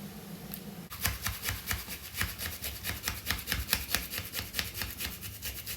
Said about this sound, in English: I've got a little mini grater here, rather than chop mine, I'm just going to use this and grate it.